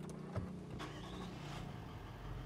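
A 2013 Toyota Land Cruiser engine cranks to life with a couple of brief starter thumps, then settles into a faint, smooth, steady idle.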